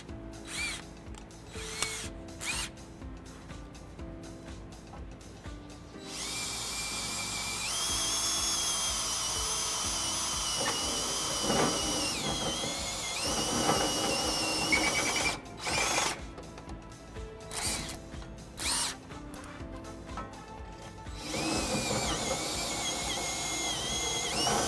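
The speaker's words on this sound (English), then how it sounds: "We'll go to our reamer bit." A power drill fitted with a reamer bit enlarges a pilot hole to half an inch in the steel frame of a 2012 Ram 1500 truck, whining steadily for long stretches between short bursts and stops, close and loud.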